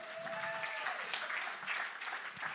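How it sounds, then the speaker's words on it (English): An audience applauds a quiz leader at a vineyard Sunday gathering, a brief burst of moderate clapping with a faint tonal whistle early on and some murmuring voices underneath. "So give her a round of applause."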